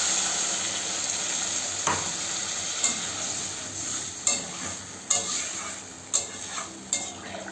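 Water splashing into a hot pan of sautéed papaya, potato and fish curry: a steady sizzle with sharp scraping stirs about once a second near the end, close and moderately loud.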